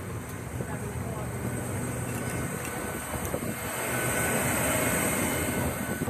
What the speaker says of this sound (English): So we're just getting off the aircraft,